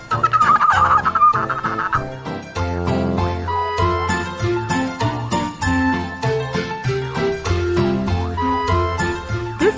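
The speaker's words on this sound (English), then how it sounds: "This is a hen." Hen clucking over an upbeat children's farm-animal music track, with the bird calls mixed in among bright instruments.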